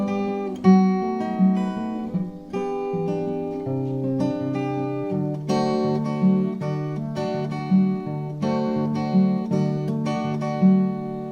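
Acoustic guitar playing the opening part of a song, steady strummed and picked chords with a repeating bass pattern, close and clear with no voices.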